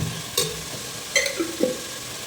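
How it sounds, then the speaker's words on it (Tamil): Ginger garlic paste sautéing in a pan for mutton biryani, with a soft low sizzle and a few scattered spatula scrapes and clinks, fairly quiet and close. "ஸோ கொஞ்சம் ஜிஞ்சர் garlic பேஸ்ட் வதங்கட்டும்."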